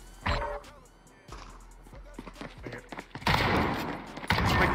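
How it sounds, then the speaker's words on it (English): Shotgun blasts and other gunfire in Modern Warfare, heard as scattered sharp reports followed by loud, dense bursts of firing toward the end, mixed with game noise and faint background voices. "Oh, he's using a shotgun."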